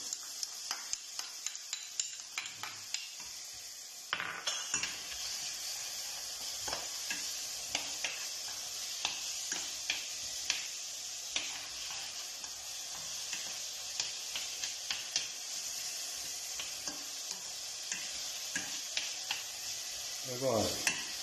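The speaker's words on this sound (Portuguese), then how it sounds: "Saltear bem estes legumes, fazer um refogado. E agora vou juntar a cenoura." Vegetables with carrot sauté in a pan, giving a constant soft sizzle with frequent light clicks of a utensil stirring against the pan, close and steady throughout.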